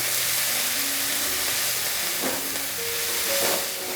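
Chopped bathua leaves are stirred into a hot pan with chillies for tikki, giving a steady close sizzle and hiss with soft scraping of the mixing, no voices present.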